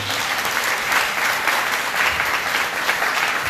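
A church congregation at a Sunday service applauds together, a steady close wash of clapping that holds evenly from start to finish.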